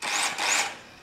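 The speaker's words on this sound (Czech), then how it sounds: "Děda na něj vrčí pilou." A small engine on a brush cutter, handled by an older man, is revved twice in close succession. Each rise is a loud, high whine that fades at the end, with no talking.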